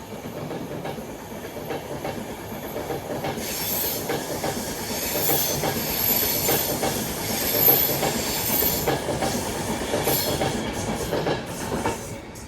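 A Class 390 Pendolino electric train runs through Cheadle Hulme station on the London Euston to Manchester Piccadilly route, giving a steady rumble and hiss with faint clickety-clack and a light wheel squeal as it passes.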